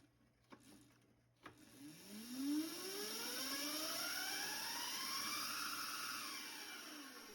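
A Razor MX650 electric dirt bike with a poor soft-start controller: after a couple of clicks, the motor whine slowly climbs in pitch over several seconds and then holds a steady high tone, close and fairly quiet.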